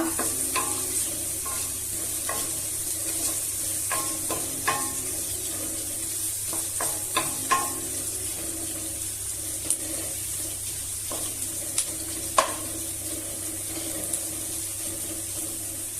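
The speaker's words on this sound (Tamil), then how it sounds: "வெங்காயம் கொஞ்ச நேரம் நல்லா செவந்து வரட்டுங்க, வதங்கி." Onions and curry leaves sautéing in a pan for a quick chicken dish, a soft steady sizzle with scattered clicks and scrapes of stirring, no talking.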